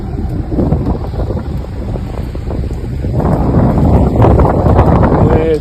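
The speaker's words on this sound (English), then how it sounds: "Windy as hell." Strong wind buffets the microphone in loud, continuous gusts, building slightly toward the end, with faint voices underneath.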